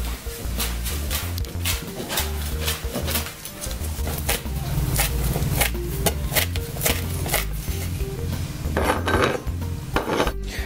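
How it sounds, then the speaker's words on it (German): Sage leaves chopped with a knife on a cutting board for ravioli filling, a fast, steady run of sharp knocks lasting several seconds, close and loud with no talking. "Jetzt hacken wir den Salbei klein für die Füllung."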